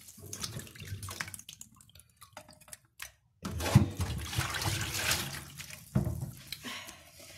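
Greens being rinsed under a running kitchen tap, water splashing and gushing in bursts with short pauses, loudest in the second half.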